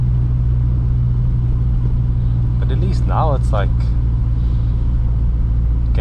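A VW Mk2 GTI with a 1.8T engine and a 76mm exhaust cruises with a steady, loud, low droning rumble from inside the car, while someone talks briefly over it.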